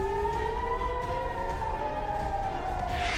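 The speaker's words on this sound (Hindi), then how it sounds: "जहां पे टाहा टिकवा सहित कई इलाकों में सायरन गूंज उठे" An air raid siren holds a long, steady wail that sinks slowly in pitch, heard from a distance over a rushing background, warning of an incoming missile attack in Israel.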